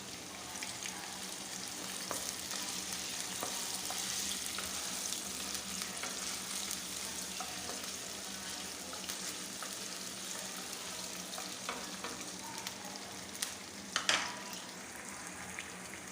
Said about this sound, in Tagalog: Susunogin po natin ang bagya itong luya.